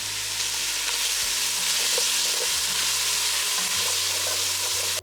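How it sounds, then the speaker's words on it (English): Onion and minced garlic frying in a pan, a constant close sizzle with low rumbling tones underneath and occasional stirring scrapes throughout. "Now we're gonna add in about a tablespoon of minced garlic and stir that around and let it cook for just a minute."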